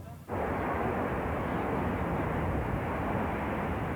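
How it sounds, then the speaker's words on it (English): A B-52 bomber loaded with cruise missiles takes off at night, a loud, steady roar of jet engines that bursts in abruptly and holds at full power throughout. "A flight of B-52s loaded with cruise missiles soared into the night sky before heading east towards the Balkans"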